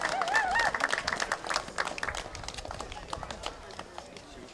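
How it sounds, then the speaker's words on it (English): Scattered clapping from an outdoor crowd at a St. Patrick's parade awards moment, moderately loud and uneven, with whoops and voices mixed in and fading slightly toward the end. "Clap it up."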